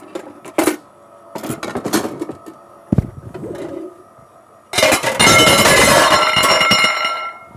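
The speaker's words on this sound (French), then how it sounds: "Allez, je récupère une poêle." A metal frying pan is picked up and handled in a kitchen during pastry making for a mille-feuille, with scattered clanks and rattles followed by a loud, sustained clattering rush.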